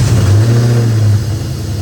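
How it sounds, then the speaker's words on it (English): A Cobra car's engine starts up close by, a loud low rumble with a sustained tonal whine that settles into a steady idle. "I'm gonna turn on the car"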